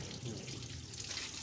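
Water runs from a garden faucet at home to wash feet, a steady quiet splashing hiss with no pause through the brief moment.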